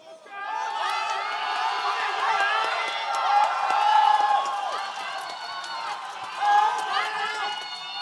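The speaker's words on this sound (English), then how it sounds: "The Hong Kong crowd making us go deaf again." A Hong Kong crowd at a Rubik's cube championship cheering and whooping loudly in a sustained roar of many voices, swelling in a couple of peaks, with speech mixed in.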